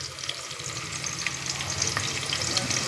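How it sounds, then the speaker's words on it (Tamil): Chopped onions and three green chillies sautéing in oil for tomato rice, a steady close sizzle with intermittent stirring scrapes and ladle taps. "நல்லா வதக்கி விட்டுடலாம்"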